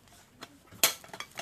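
A metal kettle handled among dishes and pots in a busy bazaar housewares shop, giving one sharp clink with a few faint clatters around it over low shop ambience.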